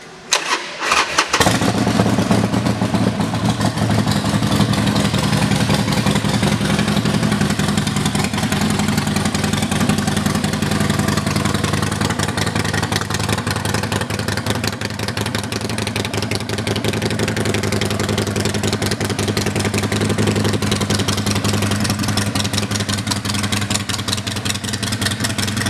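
A 2011 Harley-Davidson Sportster XL1200N with loud Eagle exhaust pipes and 48,092 miles fires up after a second of quiet, then settles into a loud, steady, rumbling idle that carries on alone.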